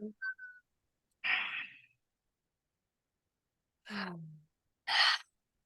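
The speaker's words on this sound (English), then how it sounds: "Let's take a deep breath in together." Soft, close breaths drawn in and let out, a few short airy inhales and exhales separated by silence, with a brief whistle-like tone at the start.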